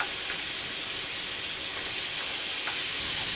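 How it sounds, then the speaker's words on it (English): Ground turkey frying in a pan, a steady close sizzle and hiss throughout while a wooden spoon breaks the meat apart, with faint scraping ticks under the crackle. "I'm going to use my wooden spoon to break apart the turkey as the turkey is cooking"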